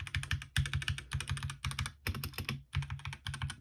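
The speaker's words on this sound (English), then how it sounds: "It's a mechanical keyboard with red switches" Fast typing on a mechanical keyboard with red switches, a close, steady patter of keystrokes in short runs with brief gaps.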